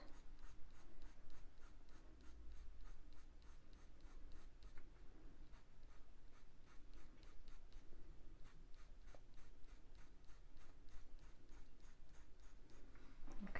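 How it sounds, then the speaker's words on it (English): Coloured pencil flicking in quick short strokes across drafting film, a steady rapid scratching rhythm repeated dozens of times, close and fairly faint, with no voices. "Just flick the pencil out."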